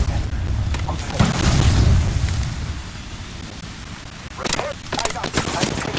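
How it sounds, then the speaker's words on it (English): Booming gunfire in the Apex Legends video game rumbles in a heavy burst early, then sharper shots crackle near the end, with game voice lines around it. "I'm taking fire."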